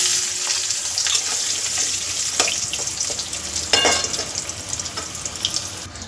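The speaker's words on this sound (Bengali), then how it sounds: "দিয়ে ওই তেলে প্রথমে আলুটা ভেজে নেব।" Potatoes fry in hot oil in a pan, giving a steady close sizzle with occasional sharper crackles and stirring clatters, and no voices over it.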